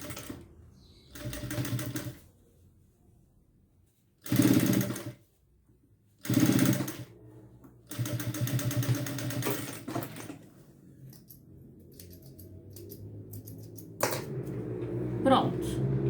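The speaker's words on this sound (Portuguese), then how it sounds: "vou passar uma costura exatamente nesta marquinha onde foi a dobra, do começo até o final" A sewing machine stitches bias binding along a fold line in short whirring bursts, then a longer continuous run, close and clear, while someone talks between and over the stitching.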